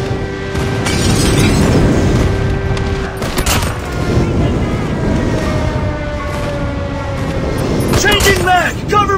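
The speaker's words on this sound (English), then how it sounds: "Friendly airstrike incoming." Explosions from a friendly airstrike in a military shooter game, landing as a series of heavy booms and crackling blasts. Loud gunfire and battle noise run throughout, along with in-game voice callouts.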